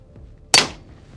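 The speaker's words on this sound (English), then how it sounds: "First gun, Walther PPK 32 ACP." A single sharp gunshot from a Walther PPK .32 ACP pistol fired at a bank truck outdoors, a loud close crack with a short decaying tail after a quiet lead-in.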